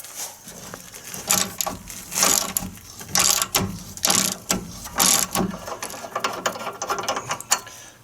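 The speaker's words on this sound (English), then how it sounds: "I've got my 18 millimeter socket on a ratchet with a pipe for a little extra oomph" An 18 mm socket on a ratchet, lengthened with a pipe for leverage, loosening rear brake caliper bolts on a GMC Sierra or Chevy Silverado: close, rhythmic bursts of ratchet clicking, roughly a dozen strokes in a row.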